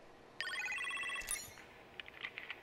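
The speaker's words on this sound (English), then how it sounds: "Let's go answer the phone." A telephone rings in the Iron Man VR video game: one bright electronic ring of about a second, clear and fairly close, followed by faint clicks in a quiet room.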